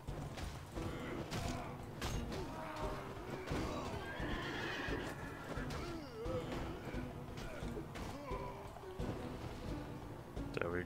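Horses neigh and whinny with clip-clopping hooves and creaking amid a busy Mount and Blade: Warband battle scene, a steady dense mix with someone talking over it.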